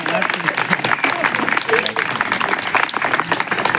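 Audience applause at a Hindi satirical poetry recital: dense, steady clapping fills the whole stretch, with voices mixed in.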